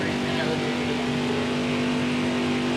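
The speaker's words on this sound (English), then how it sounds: "Literally, if you listen to it, our truck doesn't even sound the same anymore." Damaged NASCAR truck engine in NASCAR Heat 5 after contact on track, a continuous loud engine drone with a strained steady tone and little change in pitch.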